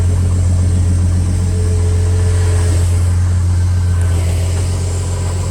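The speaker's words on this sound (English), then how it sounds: "So there's Pat, nice cold start in the morning, and that is carbureted" A carbureted engine in a 1986 Ford F-150 idles after a cold start on a frigid morning. It is a loud, steady, close-up rumble with a strong low hum and no revving.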